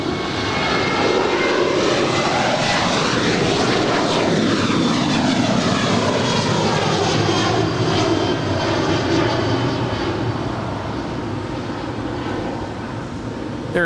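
A fixed-wing airliner passes at Los Angeles LAX airport, its loud, steady jet engine roar holding close and constant throughout with a slowly shifting tonal whine.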